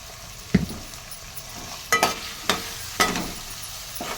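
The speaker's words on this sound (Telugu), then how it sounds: "నూనెలో మగ్గిన వంకాయలకు కారం వేయాలండి" Brinjal frying in hot oil with chili powder added, a steady soft sizzle broken by several sharp scrapes and clanks of a spoon stirring in the pan, close by and with no talking.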